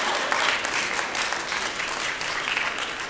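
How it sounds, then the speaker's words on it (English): A lecture audience at the MSA West 2012 gathering claps loudly and steadily, a dense, even wash of many hands close by with no voices over it. "You can clap, it's not haram, by the way."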